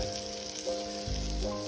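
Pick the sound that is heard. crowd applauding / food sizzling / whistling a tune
food sizzling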